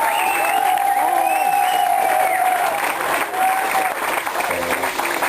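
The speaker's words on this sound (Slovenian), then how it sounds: "Miro Kregar, velik aplavz," Crowd at a reception in Kamnik applauds and cheers in welcome for Miro Kregar, sustained clapping mixed with shouts and whistles, with voices and a steady high tone running underneath.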